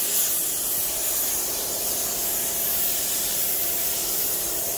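Spray gun laying paint on a Monte Carlo SS, a steady, close broadband hiss of atomized paint that runs unbroken for about five seconds with no talk.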